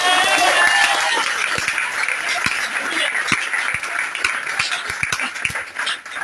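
A church congregation at a Sunday service claps and cheers, a broad wash of crowd noise with sharp individual claps scattered through it, fading slightly toward the end.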